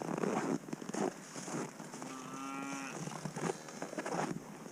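Cattle on a farm at feeding time, one clear moo with a rising harmonic call near the middle, rising out of steady ambient noise and a few clunks.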